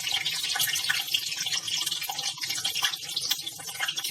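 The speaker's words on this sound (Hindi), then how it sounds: "ऑयल हो गया तो मैं अभी चापें डाल देती हूँ इसमें।" Soya chaap pieces hit hot oil in a home kitchen while a spicy soya chaap curry is being made, giving a steady, dense crackling sizzle that holds throughout.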